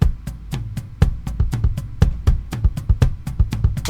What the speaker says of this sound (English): So I'm just hearing the tom layer pattern number 1 with the kick and snare pattern 1,